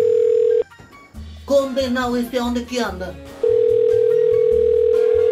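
A telephone tone rings steadily on an unanswered call, dropping out while someone speaks over it and then resuming as a continuous tone.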